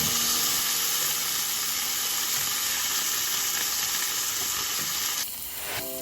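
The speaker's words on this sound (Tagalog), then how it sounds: "medyo iprito muna natin ng konti ang isda" Yellowtail fish sizzles steadily as it fries in a pan, a loud continuous crackling hiss that breaks off abruptly near the end, followed by faint clinks.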